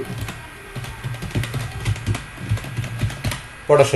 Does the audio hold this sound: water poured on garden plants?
no